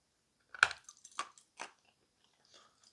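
Close bites and crunches of a piece of edible clay: a sharp first snap followed by a few quieter crunching chews at irregular intervals, with no talk.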